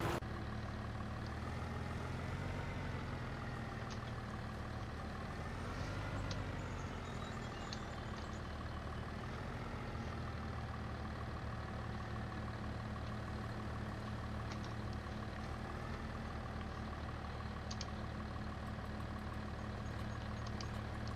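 A tractor engine idles in Farming Simulator 25, a steady, continuous low mechanical drone with a faint rising and falling hum, holding at an even level for the whole stretch with no talk over it.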